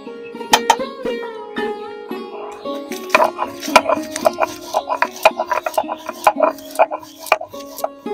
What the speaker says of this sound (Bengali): তো এই যে ভাজা মশলাটা আমি গুঁড়ো করে নেব।